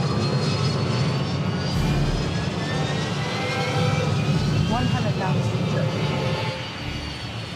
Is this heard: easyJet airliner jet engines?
yes